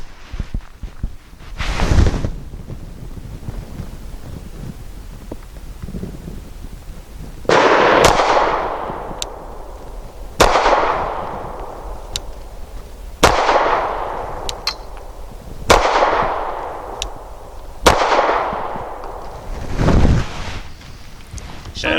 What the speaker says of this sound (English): now we're going to do our accuracy 5 rounds of the Norma Hexagon. It's 124 grain.